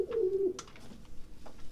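Young pigeon squab cooing softly, a short low warbling coo near the start followed by faint chirpy peeps, close by in a quiet setting.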